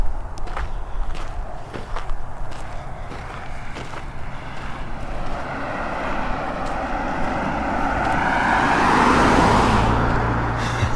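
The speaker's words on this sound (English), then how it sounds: "that guy was driving on the other side of the road" A car on a road approaches and passes close by, its tyre and engine roar swelling steadily to a loud peak near the end, with earlier walking steps faintly underneath.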